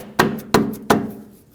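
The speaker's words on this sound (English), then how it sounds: "Use a rubber mallet, not a steel hammer, to tap it in." A rubber mallet taps the end of a front upper control arm into the frame of a 2015-2020 GMC Yukon, three evenly spaced dull thuds close by, each fading quickly.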